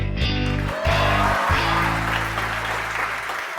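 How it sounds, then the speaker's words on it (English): An audience applauds a guest, Detective Stanley Carter, at a televised evening show: steady, dense clapping, loud and close, fills the whole stretch, with a low hum and brief talk-like tones at the start. "Let's give a warm round of applause for our guest tonight, Detective Stanley Carter"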